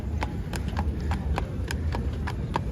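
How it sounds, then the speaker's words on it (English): A carriage horse clip-clops along a Manhattan street near Central Park, its hoofbeats crisp and evenly spaced against a continuous murmur of city noise. "And the clippity clop of the horse"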